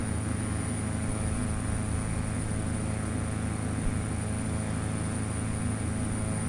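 Constant, even engine and propeller drone of a Fletcher Cresco aircraft running in a flight simulator at reduced throttle, steady and unbroken throughout.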